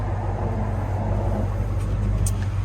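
A 1965 Ford Galaxie 500 accelerating through the gears, its engine a steady low rumble heard from inside the car, fairly loud and continuous with no talking.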